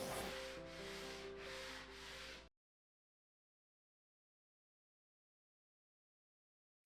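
Wooden outfeed shelves on a table saw cabinet are hand-sanded to 180 grit, giving a close, steady rasping with several rhythmic back-and-forth strokes that stop abruptly, followed by silence.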